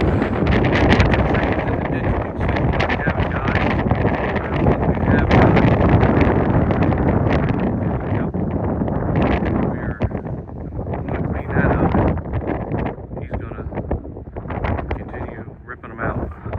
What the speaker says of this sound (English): It is very windy and cold.